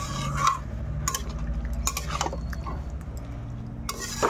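A spoon stirs a jackfruit seed curry in a pot after water goes in, giving steady scraping and gentle clinks over a constant low simmer. A few sharper knocks of utensil on metal stand out, close and moderately loud.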